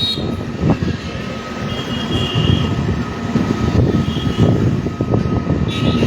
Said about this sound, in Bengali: ট্রেন চলছে কৃষ্ণনগরের পথে